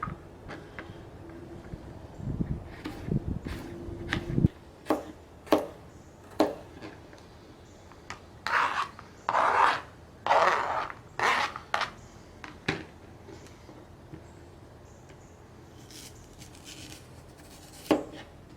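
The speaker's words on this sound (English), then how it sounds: "I think I'm gonna cut this into 3 strips." A knife chops Spam on a cutting board at a camp cooking setup, giving a sparse series of sharp close knocks, then a denser run of scraping slices in the middle and scattered single taps after, with no talk.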